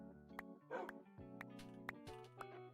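A dog yips and barks in short bursts with a whimper between them, fairly quiet and close, in what is presented as Minecraft game audio, with no talking over it.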